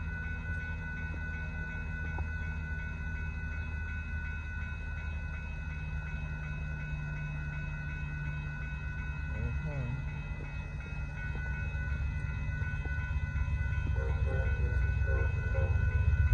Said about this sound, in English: This one has to be Amtrak Texas Eagle 22 train going by.